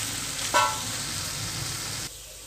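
Cooked, cooled rice being stirred and mixed in a hot pan for a kids' lunch box dish, a steady close scraping sizzle with a brief bright clatter near the start, then quieter toward the end.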